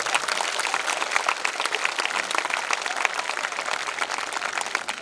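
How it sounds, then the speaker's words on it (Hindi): An audience at a Kumar Vishwas comedy and poetry event in Jhajjar claps steadily in sustained applause, a dense wash of hand claps that holds at an even level throughout. "तालियां एक बार अपने लिए बजा दो"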